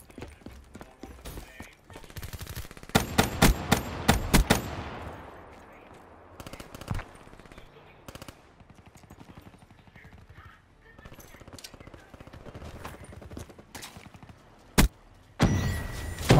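Video game gunfire: rapid bursts of automatic shots, with a dense cluster early on and scattered single cracks and short bursts after it. A few sharp shots come near the end, with a voice speaking in the background.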